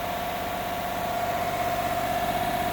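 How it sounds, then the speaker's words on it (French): A petrol car engine idles with a constant low rumble and a faint whine during fuel injector cleaning, with fault codes P050D and P0300, running evenly throughout with no voices. "ça fait 5 bonnes minutes que le moteur tourne"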